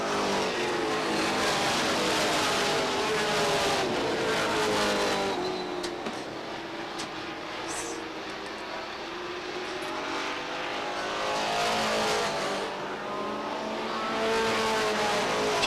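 Late model sportsman race cars roar around Beech Ridge Motor Speedway on the final lap, a loud continuous engine drone with rising and falling pitch as the pack passes, no voices.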